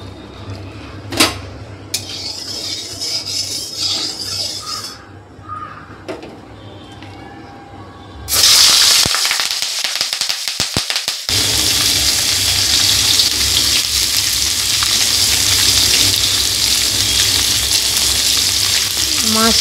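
Fish hits hot oil in a wok and breaks into a loud, continuous sizzle that fills the second half, after a quieter stretch of kitchen clatter and utensil sounds.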